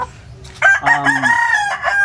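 A red rooster crows once, loud and close, a single drawn-out cock-a-doodle-doo with a rising, harmonic call, preceded by faint low clucking.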